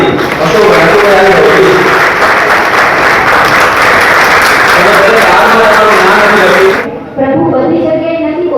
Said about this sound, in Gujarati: આપણે સૌ એકવાર જોરદાર તાળીથી અશોકભાઈ